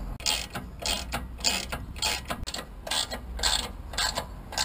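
A ratchet wrench clicks in quick bursts while new bolts are tightened on a Suzuki Jimny trailing arm, the sharp ratcheting strokes close and repeated in an uneven rhythm with brief pauses between pulls.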